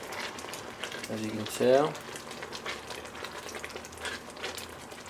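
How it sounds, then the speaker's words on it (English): Vegan bolognese sauce bubbles at a rapid simmer in a pot with the lid off, a low, steady burbling running under a man's brief spoken remarks. "Give it a real rapid simmer look"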